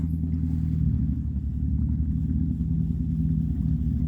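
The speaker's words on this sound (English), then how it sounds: "After the engines had warmed up a little bit, it was time to drop the lines and take off." Boat engines rumble steadily as the Triton pulls away from the dock, a loud, continuous low drone with some wind noise over the microphone and no talking.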